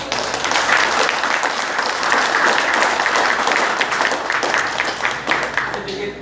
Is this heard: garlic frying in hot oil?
no